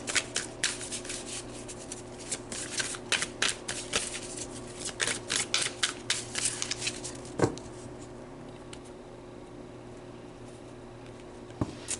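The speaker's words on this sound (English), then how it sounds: "I'm just going to pull 3 more tarot cards to see what else Spirit would like to say to you" Tarot cards are shuffled in quick riffling bursts of close, crisp flicks and slaps. The activity is dense at first, then thins to a quiet hum broken by a couple of isolated taps.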